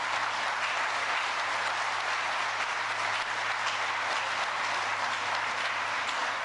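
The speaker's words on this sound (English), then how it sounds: "I think that's worth a round of applause" Audience applause at a vice-presidential speech during a plant groundbreaking in Lancaster, Ohio, a steady wash of clapping filling the full stretch at moderate, distant level with a low steady hum beneath.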